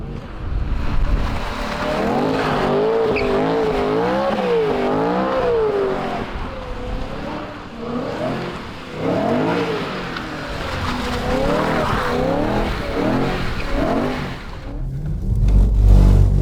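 A BMW E92 M3 spins donuts, the engine note wavering up and down continuously while tires squeal, loud and close, before the sound drops and then swells again at the end.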